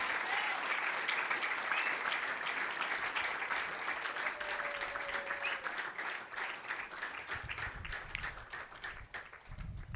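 A church congregation applauding in praise of God during a prophet's service, a dense, steady wash of many hands clapping that carries on without break for the full stretch.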